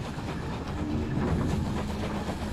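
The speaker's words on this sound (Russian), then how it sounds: "Не поняла, я на поезде что ли?" A train ride in a forest-at-night video game, with a steady low rumble and rolling rail noise continuing evenly throughout, no talking.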